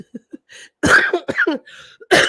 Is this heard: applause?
no